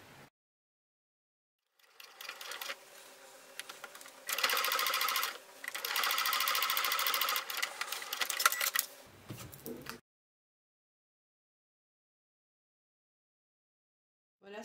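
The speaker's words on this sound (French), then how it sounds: "On va coudre donc les deux côtés comme ça bien et la petite languette ici." Sewing machine stitching both sides of a fabric pouch with lace frills and a small tab, running in steady bursts at close range with short pauses, alone without talk.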